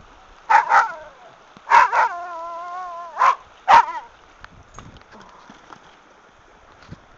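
A dog barks in short bursts at the seaside beside a stream running down to the sea, four loud close barks spread over a few seconds, one drawn into a wavering whine, then quiet background.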